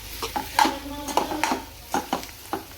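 Usal with chillies stirred in a pan: a series of close metallic spoon clinks and scrapes against the pot over a low sizzle, no voices.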